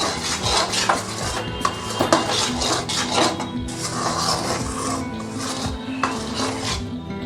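A spatula stirs a thickening coconut, sugar and milk-powder mixture in a kadai as it starts pulling away from the sides, making close, irregular scraping and metallic clinks against the pan.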